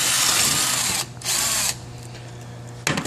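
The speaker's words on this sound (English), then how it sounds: "Drilling through thick pieces of steel." Power drill boring through a thick piece of steel, a loud close steady whine with a grinding edge that dips briefly, resumes, then drops in pitch before a final surge.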